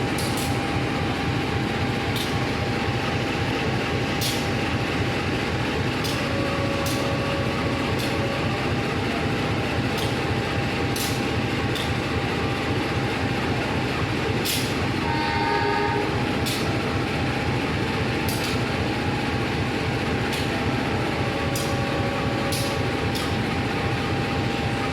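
The Serayu passenger train rolls past in light drizzle with a steady rumbling roar and rhythmic clatter of wheels, with short horn blasts sounding partway through.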